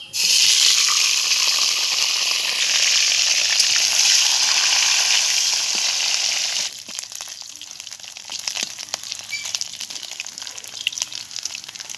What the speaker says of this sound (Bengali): শুটকি মাছগুলো ভিজিয়ে রেখে পরিষ্কার করে ধুয়ে নিয়েছি তেলের উপরে ভেজে নেব